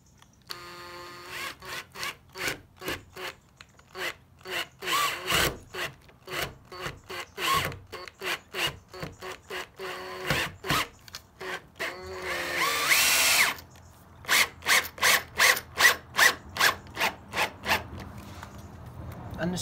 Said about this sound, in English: start the drill like so.